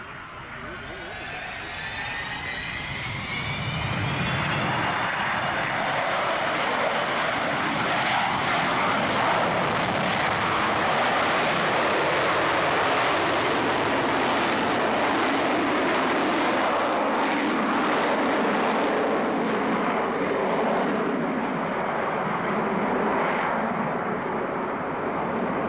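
An Avro Vulcan B1 jet bomber thunders past at an air display during a touch-and-go landing, a rising whine building into a loud, sustained roar that fills the scene, with a commentator speaking over it.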